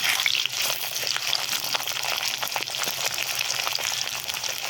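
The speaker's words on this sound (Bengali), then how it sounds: "আলুগুলো এভাবে নাড়াচাড়া করে ভেজে নিতে হবে" Potatoes fry in hot oil as they are stirred in a pan while cooking alongside aubergine and tomato for a Bengali tel jhal, a steady dense sizzle with scraping stirs running throughout, close and fairly loud.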